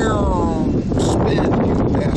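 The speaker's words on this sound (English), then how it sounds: "There's a big gust." A big gust of wind buffets a WindyNation WindTura 750 wind turbine, loud close roaring wind noise with a whining tone that slides downward, no speech during the gust.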